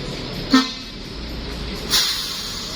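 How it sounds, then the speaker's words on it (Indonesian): A Gumarang Jaya bus with an Adi Putro Jetbus 3 single-glass body arrives with a steady engine rumble, giving two short horn toots about a second and a half apart, fairly close and loud. "Masuk satu unit Gumarang Jaya dengan bodi Adi Putro single glass jet bus 3"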